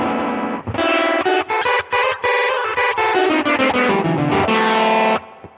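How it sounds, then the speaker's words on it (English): Distorted electric guitar through a Line 6 Helix chorus with rate and depth cranked to extreme, playing a loud, close phrase of sustained notes whose pitch warbles rapidly and deeply, ending in a brief silence. "We have this massively quick modulation going on and very deep."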